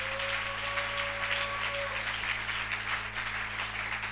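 A church congregation at a Friday night prayer vigil applauds steadily, a dense sustained wash of clapping over a low organ-like hum.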